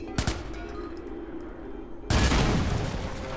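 Gunfire and a blast in the Watch Dogs video game: a sharp pair of shots near the start, then a sudden loud explosive burst that sustains into a dense roar to the end.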